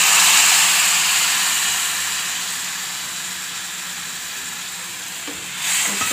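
Tamarind water hits hot frying masala for a Seela fish kuzhambu, setting off a loud, steady broadband sizzle that eases slightly, then flares briefly again near the end, with no talking.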